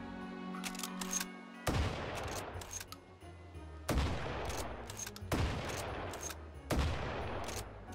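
A shotgun in the VR game Hot Dogs, Horseshoes & Hand Grenades fires buckshot and slug rounds: several loud, sharp blasts spaced a second or two apart, each trailing off in a ringing decay.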